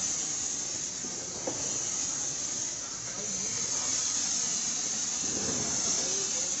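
A lit Diwali firework hisses in a steady, bright spray that keeps on for several seconds, with voices faintly in the background.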